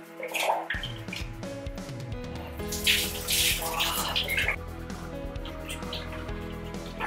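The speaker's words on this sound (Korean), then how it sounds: "따뜻한 물을 몸에 붓도록 하겠습니다." Warm water poured over a body in a shower, splashing and running steadily onto skin and floor for several seconds, close and fairly loud, with no talking.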